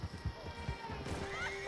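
A horse whinnies briefly amid outdoor commotion, with low thuds and background voices.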